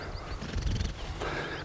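Horses in a field neigh and whinny with some hoof clatter, moderately loud and close, with the sound rising and falling over a steady outdoor background.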